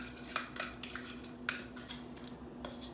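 A spoon stirring double chocolate pudding thickened with cornstarch in a pot, giving soft irregular scrapes and light clinks against the metal over a steady low hum, fairly quiet.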